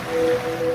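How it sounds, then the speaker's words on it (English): Ocean waves washing ashore in a laundry detergent advert, a steady soft surf wash with a faint sustained tone running underneath, heard alone without talk. "now you're drifting asleep to the scent and sound of waves"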